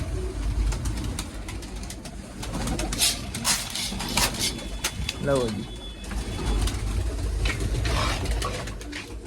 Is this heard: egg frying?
no